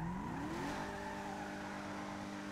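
An in-game car driving, engine note rising in pitch then holding a steady hum, quiet and continuous without talk.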